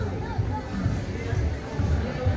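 Steady, dense babble of a crowd fills a packed Jerusalem neighborhood during Sukkot, many overlapping voices and footsteps blending into a continuous, fairly close hubbub.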